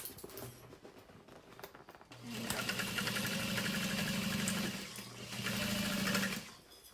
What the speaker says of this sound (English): I'm gonna stitch along the outside edge very slowly, very carefully.